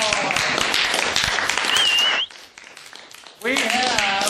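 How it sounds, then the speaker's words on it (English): A classroom crowd claps in a dense burst, a whistle-like tone rising partway through, then it cuts off abruptly for a moment before loud clapping and voices resume. "Alrighty, a round of applause."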